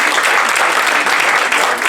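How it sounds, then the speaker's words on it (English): A live audience at an academic talk applauds a college president, dense, steady clapping filling the room at close range for the whole stretch with no voices on top. "could we please give another round of applause for President"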